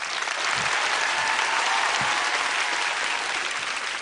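Dense applause from an audience, a steady wash of clapping that holds evenly from start to finish.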